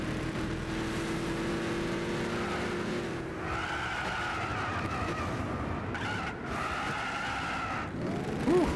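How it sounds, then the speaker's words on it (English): In Gran Turismo 6, a powerful car's engine roars while its tires skid and squeal in long bursts, loud and continuous with no talking. "Listen to the roar of this car!"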